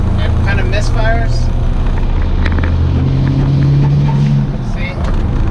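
Mitsubishi Galant engine idling with misfires, a loud low rumbling drone with uneven pulsing close by, while a voice talks over it.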